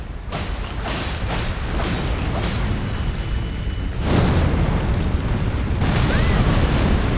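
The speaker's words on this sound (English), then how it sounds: "That's a big explosion of," Big explosion in the video game Elden Ring Shadow of the Erdtree: dense booming rumbles and repeated bursts, swelling to a heavier blast partway through and staying loud throughout.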